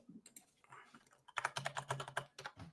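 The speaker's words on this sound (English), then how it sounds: "now you're typing" Typing on a computer keyboard, close and fairly quiet: a few soft taps at first, then a fast, dense run of keystrokes with no talking over it.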